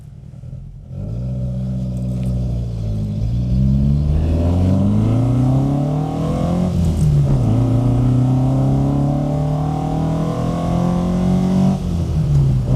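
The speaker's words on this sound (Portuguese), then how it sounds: "dá para ouvir um pouco do escapamento, mas, de longe, é o barulho da admissão que domina" A Hillman Avenger Tiger car accelerates through the gears while driving, its intake roar dominating over a lighter exhaust note, with engine pitch rising and falling as it shifts, loud and close from inside the car.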